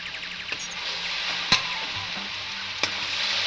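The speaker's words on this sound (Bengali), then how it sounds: "এখন ভালো করে নাড়ি চাড়িয়ে নেব।" Cabbage is stir-fried with cumin paste in a pan, with a loud, steady close-up sizzle and a few sharp spatula scrapes and clacks against the metal.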